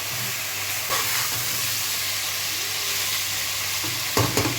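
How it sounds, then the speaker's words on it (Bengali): Chicken pieces frying and being stirred in a pan, a strong continuous sizzle and steamy hiss with a few soft scraping stirs and a louder clatter near the end, close up. "আবার একটু নেড়ে দিলাম, যাতে সব জায়গায় মাংসগুলো সুন্দর করে লাল হয়ে যায়।"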